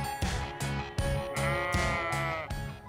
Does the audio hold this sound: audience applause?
no